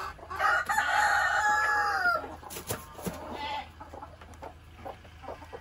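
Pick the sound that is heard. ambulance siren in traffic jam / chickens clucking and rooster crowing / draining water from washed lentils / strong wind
chickens clucking and rooster crowing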